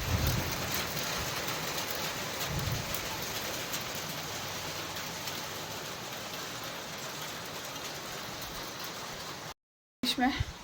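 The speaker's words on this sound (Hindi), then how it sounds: "एकदम से बारिश शुरू हो गई" Sudden evening rain in upper Shimla, Kotgarh, a dense steady hiss of rainfall on surfaces with faint low rumbles, continuing evenly before cutting out briefly near the end.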